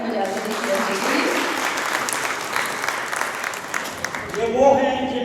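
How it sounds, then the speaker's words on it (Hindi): Loud, dense applause from an audience of senior citizens at a music gathering, sustained clapping that fades near the end as a voice begins speaking. "तो ज़ोरदार तालियां बजाते देखिए।"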